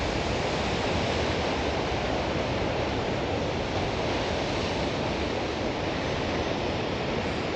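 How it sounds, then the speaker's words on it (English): Rough ocean waves crash against rock behind a lighthouse in a steady, dense roar of surf and spray that never lets up, close and fairly loud, with no voices. "Really crashing on that rock behind the lighthouse."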